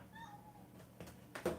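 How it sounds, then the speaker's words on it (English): A soft, drawn-out cat meow, fairly quiet, followed by a couple of brief louder noises near the end. "My cat making noise back there."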